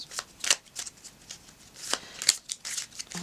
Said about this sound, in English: I'm just rearranging the deck.